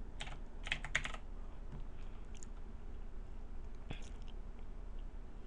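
Quick bursts of keystrokes on a computer keyboard, a few clustered taps followed by a lone click, faint and close against a steady background hum.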